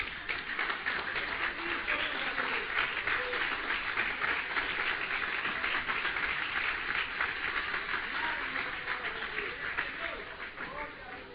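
Church congregation applauding after a prayer, a sustained, dense wash of many clapping hands that holds steady throughout before easing slightly at the end.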